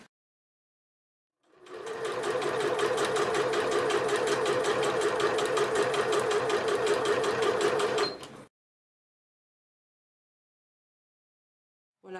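A sewing machine runs steadily for about seven seconds, stitching a decorative seam at a close, even hum with rapid needle rhythm, then stops, leaving silence.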